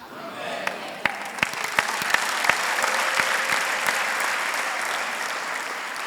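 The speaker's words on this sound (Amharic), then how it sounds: "አጨብጭቡላት" A church congregation bursts into loud, dense applause that swells after a few scattered early claps and carries on steadily, with a voice briefly heard over it.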